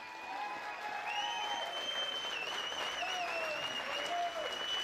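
An audience at a boxing match applauds both fighters after the bout, giving steady sustained clapping from a crowd, with a voice ringing out over it.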